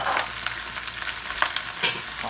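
Bok choy stir-fries in hot oil in a pan, a close, steady crackling sizzle with occasional sharper pops and scraping stirs, with no voices.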